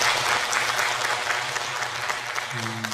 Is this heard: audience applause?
yes